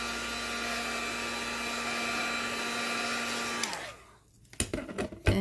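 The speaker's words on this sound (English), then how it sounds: "I'm going to put the heat gun." Heat gun drying chalk paint on a distressed, aged-look piece: a steady loud blowing whir that runs continuously, then winds down and stops, followed by a few scattered clunks and handling noises.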